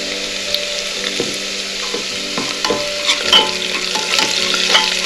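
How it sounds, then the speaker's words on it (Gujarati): Steady sizzling of vegetables sautéing in oil with asafoetida, with soft stirring scrapes and clicks throughout, close and fairly loud. "અને એને 1 મિનિટ આપણે સાંતળી લઈએ।"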